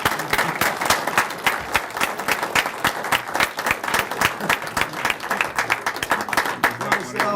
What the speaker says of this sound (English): let's give a round of applause to Estelle Rother